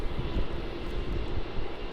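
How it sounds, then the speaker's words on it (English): An Air Asia airliner taxis toward runway 16 at Melbourne Airport, its jet engines producing a steady, rumbling roar with a broad hiss, fairly loud and continuous throughout. "Air Asia is now starting to go towards runway 16 for its departure."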